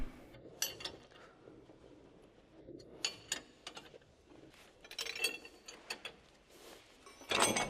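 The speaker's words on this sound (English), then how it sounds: "Use the 22mm wrench to tighten the screw and push out the ball joint." A 22mm wrench turns the screw of a ball joint separation tool on a 2013 Jeep Wrangler JK, giving close, irregular metallic clicks and ratcheting bursts, with no one talking.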